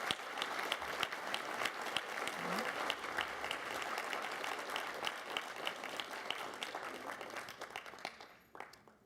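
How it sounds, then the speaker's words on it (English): An audience at a candidates' forum gives a sustained round of applause for city council candidates, dense clapping that holds steady and then tapers off near the end. "nice round of applause for our Place 8 City Council candidates"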